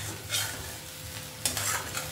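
Jeera rice cooked with ghee, salt and sugar is stirred in a pan, a soft scraping swish over faint sizzling, with a louder scrape partway through.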